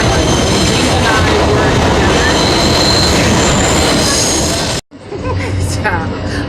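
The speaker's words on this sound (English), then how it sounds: "the other train was so loud that I couldn't tell the story" A loud train roars past at close range, a dense steady rumble with wheel squeal and rail clatter that cuts off sharply near the end, leaving a quieter hiss and rattle behind.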